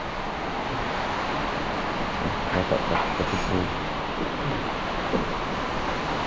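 Strong typhoon wind during Typhoon Tino, a constant loud broadband roar like rushing air and surf with no pauses, and a brief spoken word partway through.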